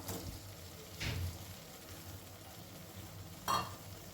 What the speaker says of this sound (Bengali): এবারে এর মধ্যে দিয়ে দিলাম ভেজে রাখা চিংড়ি মাছগুলো